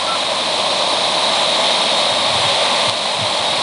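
A steady, loud roar of a jet airliner's engines fills the scene during a landing approach in the flight game Extreme Landing, a constant broadband rush with no talk.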